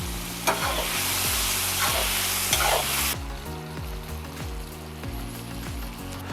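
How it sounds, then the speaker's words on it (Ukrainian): Onions with grated tomatoes stew and bubble in a pot, a dense sizzle that drops noticeably quieter partway through, with light spoon scrapes. "Цибулю з протертими томатами тушкуємо ще 5 хвилин."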